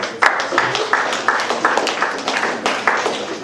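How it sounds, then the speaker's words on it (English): An audience at a campus Brewed Awakening gathering applauds steadily for first-time attendees: dense, sustained clapping from many hands across the whole stretch, moderately loud, with a faint voice underneath. "Give yourselves a round of applause."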